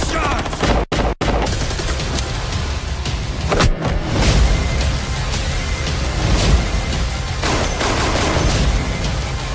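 Heavy gunfire in a 2018 action movie trailer, with sustained rapid bursts of shots and booms over a dense, loud soundtrack for the whole stretch, with brief dropouts near the start.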